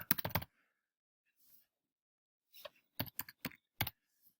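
Short bursts of rapid keyboard tapping, a quick flurry at the start and a few more clusters after a pause, close and fairly quiet.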